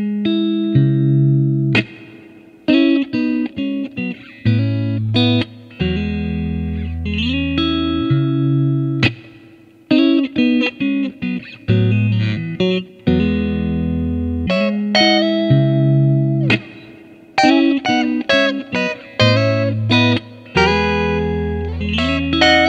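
A 2007 Fender AVRI heavy relic Stratocaster plays riffs and sustained chords through heavy effects, distorted and reverberant, in repeated phrases separated by brief silences.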